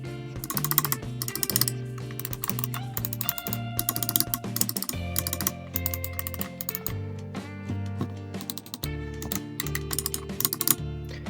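Rapid clicking and scroll-wheel ticks from a Glorious Model O gaming mouse, a quick run of light, sharp clicks that sit over steady background music.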